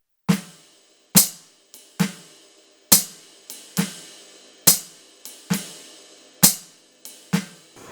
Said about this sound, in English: we can now go ahead and put the jazz time in the ride cymbal